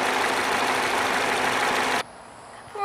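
A 2.5-liter inline-four engine in a Ford Fusion runs with a steady, dense hum up close, then cuts abruptly to near quiet about two seconds in.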